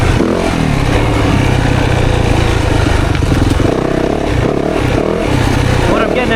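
A 2024 Yamaha YZ 450FX dirt bike on a woods ride, its loud close engine droning and revving as it pulls through first and into second gear, the pitch dropping at the shift and climbing again.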